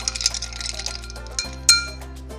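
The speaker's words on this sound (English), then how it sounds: "You want to stir it maybe about 10 to 20 seconds until you feel the outside getting chilled" Ice cubes clink against the inside of a mixing glass as a lemon-based Mona Lisa cocktail is stirred, giving a quick run of close, light tinkles and one brighter clack near the end over a steady background hum.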